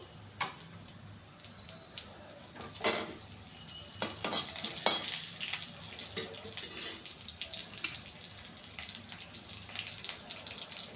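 Oil tempering with curry leaves for a putnala coconut chutney gives a faint, steady crackle and sizzle throughout, with scattered sharp pops and light scraping stirs, no voices.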